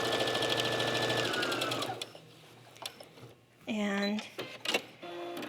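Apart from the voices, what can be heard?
sewing machine straight stitching fabric wing ribs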